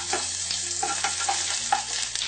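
Whole spices sizzling and frying in hot sunflower oil, a steady broad crackle with repeated stirring scrapes of a spoon in the pan, close and continuous, no voices.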